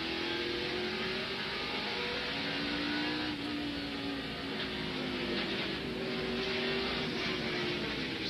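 Stock cars race at the 1999 Save Mart/Kragen 350 in a steady, loud engine roar with rising and falling whines as cars pass, continuous and without talk.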